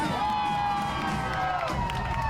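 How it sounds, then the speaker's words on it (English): A crowd cheers at a Halloween sail away party aboard the Disney Magic cruise ship, a short, fairly loud burst of mixed shouts and raised voices with tonal, ringing elements running through it. "And the crowd went wild!"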